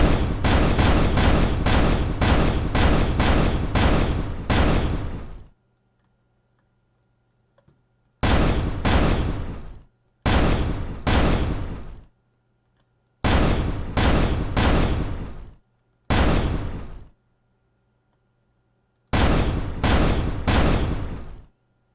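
Explosions from weapon fire in a voxel terrain game come as loud, dense bursts of rapid booming blasts. A long volley opens, then shorter clusters of two to five blasts follow, separated by seconds of silence.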